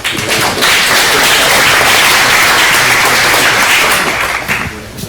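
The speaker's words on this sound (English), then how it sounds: "let's give Bert a round of applause" Audience at a VR meetup applauds for a presenter named Bert, a dense, steady burst of clapping that stays loud and fills the room before tapering slightly at the end.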